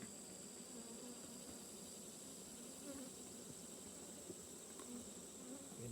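Honey bees inside a hive holding many young nurse bees around fresh comb, giving a steady, continuous buzzing hum close by with no talk.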